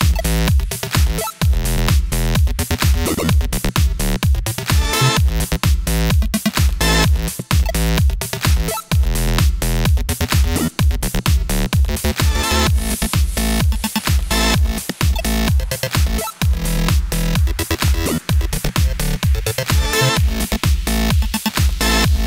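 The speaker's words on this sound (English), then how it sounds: "Today's synth is gonna be some sort of 8-bit glitchy electro house bass" 8-bit glitchy electro house bass synth patch made in Thor, loud and aggressive, with rapid chopped stuttering bass notes, buzzy square-wave tones and brief gaps in a driving repeated rhythm.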